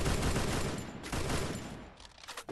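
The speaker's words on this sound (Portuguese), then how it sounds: "Tomei tiro do outro morro." Gunfire from a distant hill in an online battle-royale match, a burst of rapid, loud overlapping shots that thins out toward the end.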